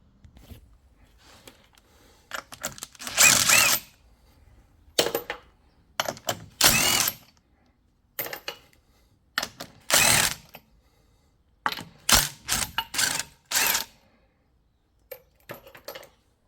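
Ratchet and wrench clatter while wheel bolts are cracked loose on a Ford Focus ST225: a series of short, sharp metallic bursts separated by quiet gaps, close by.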